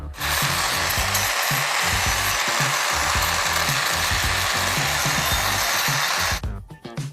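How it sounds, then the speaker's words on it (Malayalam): A power tool grinds a bicycle frame clean during a mountain bike restoration, giving a loud, sustained abrasive whir with a rattling, juddering texture. It runs without a break until it stops near the end. "ഇത് അരച്ച് ക്ലീൻ ചെയ്തിട്ടുണ്ട്."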